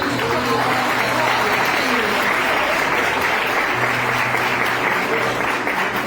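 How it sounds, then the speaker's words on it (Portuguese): A church congregation claps at a Wednesday evening worship service, a steady wash of applause with a low hum underneath and voices mixed into the noise. "Vamos aplaudir a ele"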